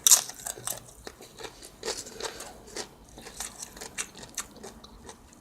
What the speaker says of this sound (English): if you don't want to hear all this crunching